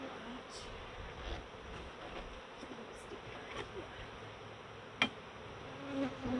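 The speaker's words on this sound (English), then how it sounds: "Ayan, honey bee pala." Honey bees drone steadily around a beehive, a continuous close buzz with individual insects passing near, one sharp click partway through.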